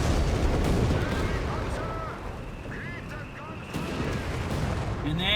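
Heavy artillery fire rolls through a Company of Heroes 3 battle on a peninsula map. Dense booming blasts and crackling gunfire come loud at first, then ease to a lower rumble, with a commentator talking over the fighting.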